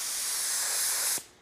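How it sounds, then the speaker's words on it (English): A continuous close hiss of a spray gun spraying car paint at about 14 PSI runs for about a second, then cuts off abruptly with a small release at the end. "We're gonna spray with about 14 PSI."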